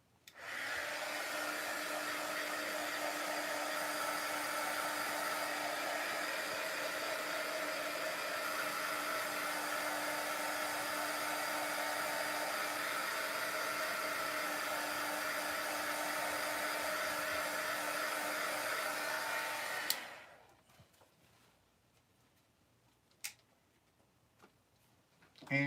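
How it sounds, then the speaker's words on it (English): Heat gun blowing hot air during an art demonstration, a steady loud roaring hiss held for about twenty seconds before cutting off into near silence with a few faint clicks. "And then you hit it with the heat gun again."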